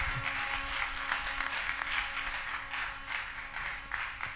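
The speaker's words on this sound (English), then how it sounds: "Please give a round of applause for Destiny" An audience at the Naija Bitcoin Conference 2024 in Nigeria applauds as Destiny Smart is introduced, a steady dense wash of clapping from a crowd that holds evenly throughout, fairly distant and without speech.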